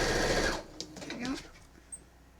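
A sewing machine stitching a t-shirt quilt, a short loud burst of rapid mechanical stitching that stops abruptly, followed by faint handling noises of fabric.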